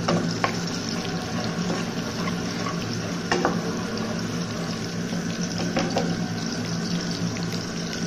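Chopped onions frying over medium heat in a pan for chicken korma, a steady soft sizzle with occasional stirring scrapes and clinks, no talking.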